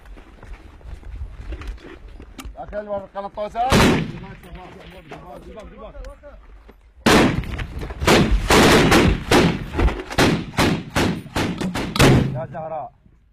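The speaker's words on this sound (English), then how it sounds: "They're now basically prepping a mortar." Mortar fire and shots on a front line against ISIS ring out as several loud, sharp blasts, one near the start and then a rapid series of close bangs, with voices talking in between.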